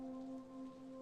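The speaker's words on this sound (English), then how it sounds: "The rain kept falling for a long time." Steady rainfall hisses in the Steins;Gate 0 video game, a soft, even wash of falling rain beneath sustained musical tones, with no talking.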